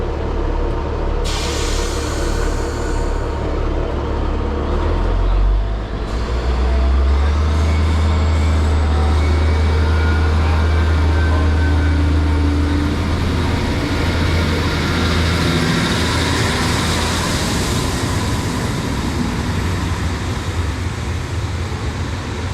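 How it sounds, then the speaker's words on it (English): Train pulling away from a railway platform in Cornwall, a loud diesel engine drone with a deep throbbing hum that rises as it departs, then gives way to a steady rolling rumble and hiss of passing wagons. "So, right, so we'll watch this train go now."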